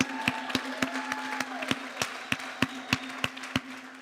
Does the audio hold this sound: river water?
no